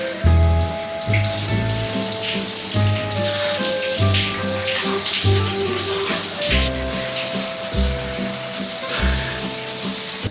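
A hot shower runs steadily and loudly up close, its dense hiss of spraying water continuous throughout, with a low rhythmic background hum beneath the spray.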